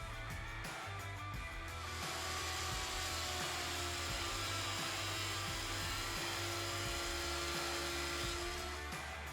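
A thickness planer takes about 1.5 mm passes off an end grain chopping board, producing a loud, continuous high-pitched machine whine and roar with a steady low hum running throughout and no speech.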